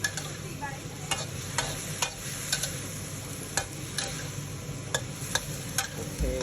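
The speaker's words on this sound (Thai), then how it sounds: "แล้วก็ทำกวนคนให้เข้ากันนะครับ คนให้ทั่วนะครับผมนะคนให้เข้ากันนะครับ" Chinese kale stir-fries in a pan with a soft continuous sizzle, punctuated by regular scraping clicks of a utensil stirring, close and steady with no talk.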